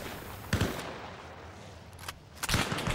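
Unsuppressed gunfire in the military shooter Arma Reforger, several loud sharp bursts of shots, one around half a second, another near two seconds and a heavier volley at the end, over constant battlefield rumble.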